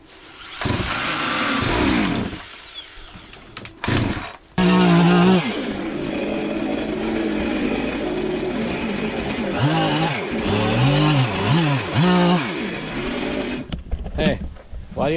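A small chainsaw engine buzzes and revs loudly through most of the stretch, its pitch rising and falling, with someone talking over it at times.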